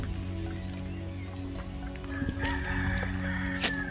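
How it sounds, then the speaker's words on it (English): Chickens and a rooster at a hillside camping hut on La Gomera, crowing and clucking at a moderate distance over steady background noise, with a drawn-out crow rising near the end. "And all you can hear are the chickens."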